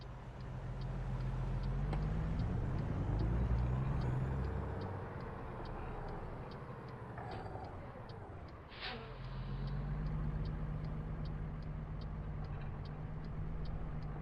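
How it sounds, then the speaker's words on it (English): Road traffic rolls through the streets of Boston in American Truck Simulator, a steady engine drone with vehicles passing and a faint repeating tick, moderately loud and continuous throughout, with no one speaking. "just as the light turns green, all the traffic starts coming"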